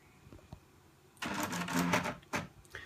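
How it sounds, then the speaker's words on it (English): A battery-powered Apple Portable StyleWriter printer made by Canon starts printing after a quiet pause and a couple of soft clicks, producing a close whirring, buzzing print-head run with short mechanical bursts. "This is the portable StyleWriter made by Canon."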